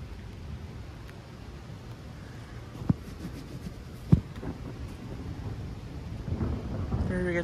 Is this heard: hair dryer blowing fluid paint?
no